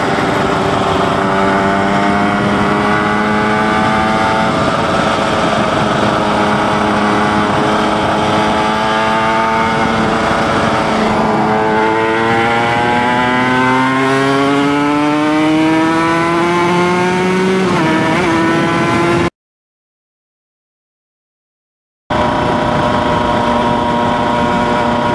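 Two-stroke motorcycle engine revving up through several gears shifted without the clutch, each upshift marked by a quick dip and renewed rising whine, loud and continuous, with a brief gap of silence near the end.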